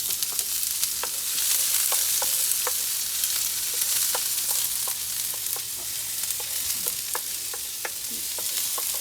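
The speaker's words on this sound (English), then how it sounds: "turn that heat down a touch and give them a little stir." Lion's mane mushrooms fry in oil in a pan while being stirred, giving a steady, loud hiss of sizzling with scattered scraping clicks from the utensil throughout.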